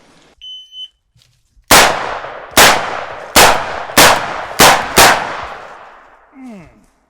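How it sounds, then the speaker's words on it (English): A revolver fires six loud, sharp shots in quick succession at staggered targets, two per target, each blast ringing out against otherwise quiet surroundings, with a shot timer beep just before. "I've got these targets staggered, put 2 shots in each"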